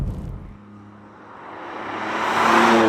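A 2018 BMW M2 Competition under way in normal driving, its engine note rising steadily from a low hum to a louder rushing drone, heard from inside the cabin.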